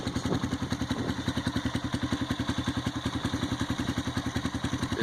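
A 2005 Honda CRF150F dirt bike engine runs just after a cold kick start, its loud, close, rapid single-cylinder putter steady and thumping throughout.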